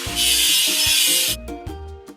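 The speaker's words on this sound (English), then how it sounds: "Let's get rid of the machine's rust." A rough, steady scrubbing rasp from a machine's rust being scoured off in a truck video game. It plays loud for about a second, then stops, with short game tones and blips before and after.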